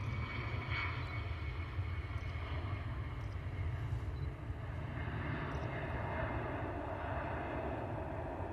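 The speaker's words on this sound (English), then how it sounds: "Turkish A321neo has started its taxi out towards us" A Turkish Airlines Airbus A321neo taxiing at an airport gives a steady, distant jet engine drone that holds at an even level throughout, with no voices.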